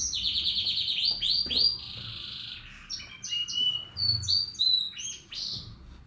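Hungry baby birds chirping close by, a rapid cluster of high, insistent peeping calls in quick overlapping bursts with soft handling noise beneath.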